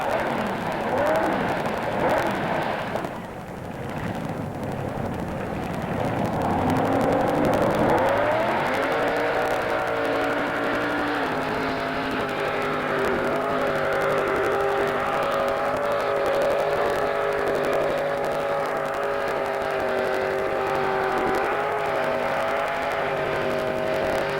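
A pulling truck named Barbarossa, driven by Lester Garber at a 1985 Teays Valley truck pull, roars loud and steady for the whole run, its engine note climbing and holding high under strain after a rough, uneven start.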